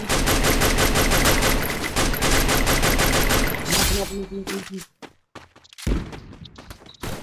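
Sustained automatic gunfire in a shooter video game, dense and loud for several seconds, then breaking into scattered single shots and thuds separated by short silences.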